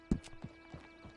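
Horse hooves clip-clop in Resident Evil 4, giving four spaced, hollow knocks that fade with each step, with a faint background hum and no talking.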